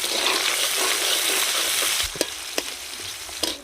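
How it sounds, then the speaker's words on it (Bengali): Onions sizzling in hot oil in a pan, a loud close hiss that holds steady, with a few sharp clicks and knocks near the end. "তেল গরম হয়ে গেছে, এখন পেঁয়াজ দিয়ে দেব।"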